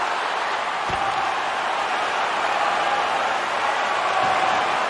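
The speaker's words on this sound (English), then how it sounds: "And the crowd's on their feet, saluting the team after a hard-fought effort this evening." Crowd in an NHL hockey video game during a playoff sudden-death game, a steady dense roar of cheering filling the arena throughout, with a couple of brief low thumps.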